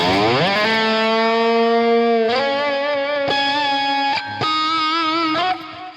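Distorted electric guitar plays a lead phrase from a guitar solo, with a slide up the neck into sustained, singing high notes and a few tapped attacks, loud and alone without any talk.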